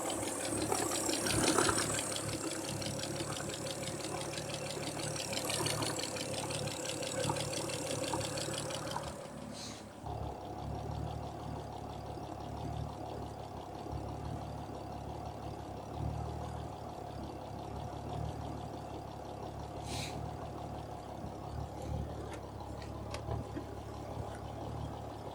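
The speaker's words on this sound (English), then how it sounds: "It's definitely idling quite nicely." A Ford Anglia engine idles steadily with a low hum and light rattle, a brief louder rev early on, then a smoother, quieter idle continuing throughout.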